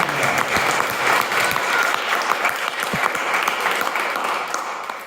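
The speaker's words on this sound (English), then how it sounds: "let's give a big round of applause." A large audience applauds at a conversation event on life, growth and success, a dense, steady round of clapping that stays full and loud for about five seconds with no talk over it.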